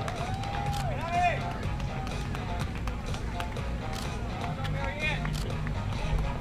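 Spectators at the St Charles Labor Day 5k road race cheer and clap for a 72-year-old runner, a steady crowd hubbub with scattered claps and whoops under an announcer's voice.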